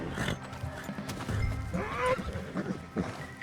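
A horse in Red Dead Redemption 2 gives a sharp neigh amid clip-clopping hooves and game ambience, with a few short whinnies and snorts around it.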